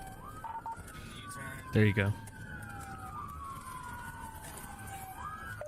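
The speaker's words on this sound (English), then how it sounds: "Those sirens just feel like home to us." A police car siren wails in bodycam footage, its sweeping tone gliding slowly up and down at moderate distance, with a short burst of nearby speech partway through.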